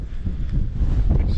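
Gusty wind buffets the microphone out on a frozen lake during ice fishing, producing low rumbling rushes that rise and fall over the short stretch.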